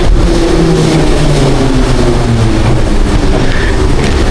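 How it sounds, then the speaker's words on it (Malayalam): An old Soviet-built metro train in Kyiv, Ukraine, roars loudly and continuously, a dense rumble with metallic rattling and rising whine as the cars run along the track. "ഈ കാണുന്നതാണ് നമ്മുടെ മെട്രോ"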